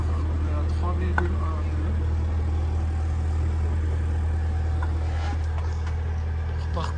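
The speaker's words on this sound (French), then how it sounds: "Moteur tranquille, 1200 tours." A boat engine runs quietly at 1200 rpm, a steady low drone that holds throughout under someone speaking.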